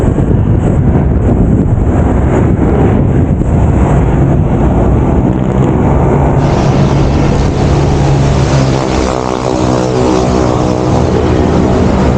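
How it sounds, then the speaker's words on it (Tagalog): Heavy wind roars and buffets against the microphone, loud and constant, with a low rumble of motion beneath it, during a ride in cool air near Tagaytay, Philippines. "Kaya lang yung hangin patulak."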